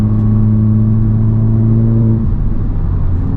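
A 2023 Honda Civic Type R with a 6-speed manual shifts gears while driving, its steady engine drone dropping in pitch partway through as the gear changes, loud and close with no talk.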